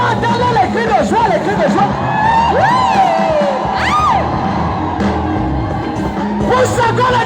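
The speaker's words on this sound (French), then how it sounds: "Je veux entendre les cris de joie" A large crowd at a presidential vigil erupts in joyful cheers, whoops and shouts, loud and sustained, with voices rising and falling together throughout.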